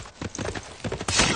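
Horse unit hooves clip-clopping in the Civilization VI strategy game, a quick series of soft, regular hoof knocks moving at a steady rhythm over light game background sound, ending in a brighter swell.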